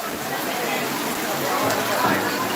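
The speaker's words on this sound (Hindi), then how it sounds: "बहुत धमाधम बारिश हो रहा है," Heavy rain pours down during an outdoor Indigenous Peoples Day stage event, a dense, steady hissing roar that fills the whole stretch while a voice talks over it.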